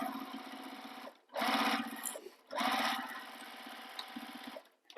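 A sewing machine stitches down the side of a crossbody bag seam in two quick bursts of rapid mechanical whirring, separated by brief pauses, close and alone.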